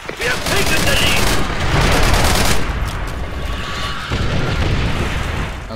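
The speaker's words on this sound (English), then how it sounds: "Oh god, there's like bombs." Bombs and artillery exploding in Call of Duty: World at War, a dense, continuous barrage of booming blasts and gunfire that stays loud throughout, easing slightly partway before rumbling on.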